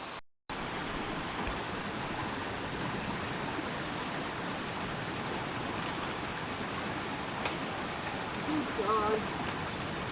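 A mountain stream runs beside a snowy, overgrown trail, giving a steady, moderately faint rush of water over rocks that carries on throughout, with a few faint chirps near the end.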